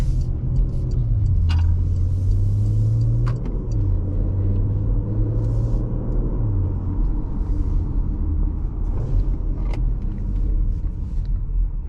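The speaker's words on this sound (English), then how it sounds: "But so far I'm very impressed with the performance of this car. It has some good acceleration." A 2023 Porsche Macan S accelerates hard from a stop, its engine note climbing through rising gear pulls with brief dips at each shift, loud and close from inside the cabin with a steady road rumble underneath.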